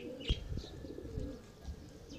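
Pigeons giving soft, low coos and a few brief chirps, faint and intermittent against quiet outdoor background.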